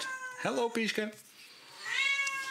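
A cat meows close by indoors, first as a few short calls and then as one longer drawn-out meow, while someone speaks softly to it.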